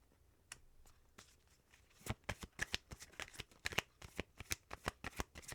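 Oracle cards being shuffled, a quiet riffle at first, then a run of sharp, evenly spaced card slaps and flicks, close and clear with no talking.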